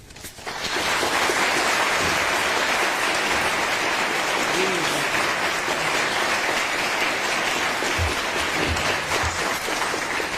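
A large university audience at Columbia in New York gives sustained, loud applause welcoming a speaker to the podium, steady clapping throughout with faint murmurs underneath.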